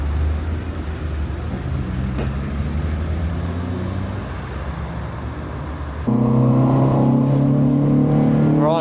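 Renault Clio 182 pulling out of the pits at Thruxton circuit, engine droning steadily close to the onboard mic, then a gear change and a louder, higher rev as it accelerates onto the track.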